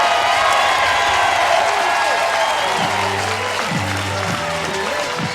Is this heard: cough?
no